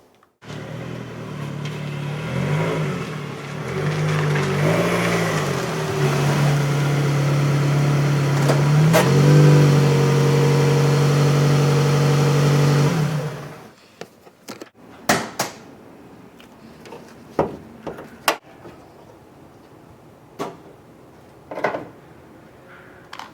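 A car engine running as it pulls onto a driveway, a steady hum with a low drone and a rise in pitch partway through, then it cuts off and a few clicks and knocks follow in near silence.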